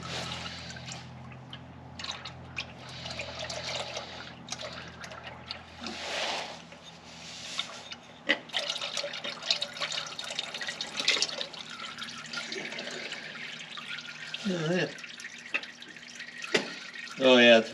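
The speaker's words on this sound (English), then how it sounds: "And so you can just drain out the center of all the oil" Old engine oil draining out of a 1975 Volkswagen Super Beetle that sat for 20 years: irregular dripping and trickling liquid under intermittent talking voices, with handling noises throughout.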